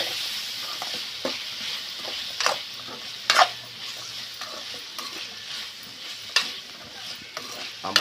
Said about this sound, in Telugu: ఇప్పుడైతే ఈ మిశ్రమాన్ని మొత్తాన్ని ఒకసారి కలిపేసుకున్నాము.